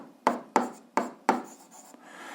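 Algebra being written on a board, heard as four sharp tapping strokes at a steady rhythm followed by softer scratching, close and clear with no voice.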